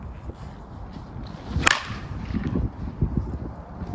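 A single sharp crack of a reinforced wood bat striking a baseball, slightly less crisp, cuts through low outdoor background noise.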